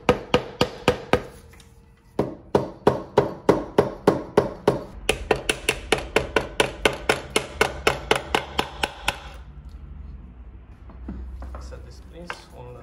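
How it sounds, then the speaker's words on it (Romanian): A rubber mallet gives repeated sharp knocks to a CF Moto/Linhai 500 engine part in steady rhythm, a short pause, then a longer run of quick even taps, close by, fading into quieter handling noise. "Îi lovim ușor cu un ciocan de cauciuc."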